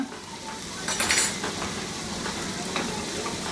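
Vegetables frying in a pan with half a chicken stock cube, a steady close sizzle with a burst of scraping and clinking as a utensil stirs, then quieter hissing.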